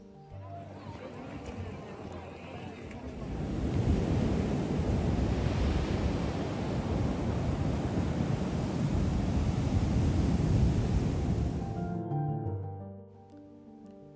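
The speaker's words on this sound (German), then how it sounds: "Das ist ein in Portugal sehr beliebter Badeort, der bekannt ist für seine riesengroßen Wellen." Ocean surf at Nazaré, Portugal, a beach resort known for huge waves, as a broad, steady roar that swells in and holds for several seconds before fading, with wind buffeting the microphone.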